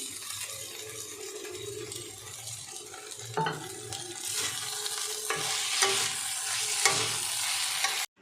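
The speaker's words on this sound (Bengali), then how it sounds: "এবার এটাকে নেড়ে নেবো আর ডিমটাও দিয়ে দিই ভাজা যে ডিমটা করেছিলাম" Chowmein with fried egg, salt and a pinch of sugar is stirred in a hot pan, with repeated scraping strokes over a continuous close sizzle and no talking.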